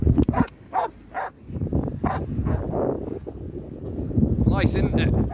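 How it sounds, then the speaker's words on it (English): Wind gusts across a hilltop with a low, blustery rumble against the microphone that builds through the second half. A dog barks sharply several times near the start and again near the end, and a person talks. "God, it's a bit windy up here."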